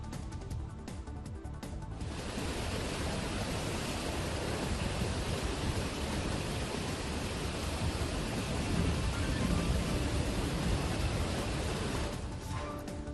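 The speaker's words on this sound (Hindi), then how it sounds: "कर्नाटक के हसन में कई हिस्सों में भारी बारिश" Heavy rain falls across Hassan, Karnataka, a dense, unbroken roar of downpour that holds steady and loud throughout.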